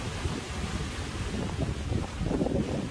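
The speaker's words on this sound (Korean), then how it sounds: "자, 파도가 사납고요, 바람도 좀 불고 있습니다" Wind buffets the microphone at a fishing harbour on a rough day at Dongmyeong port, with a continuous low roar and rumbling surf from choppy waves running steadily throughout.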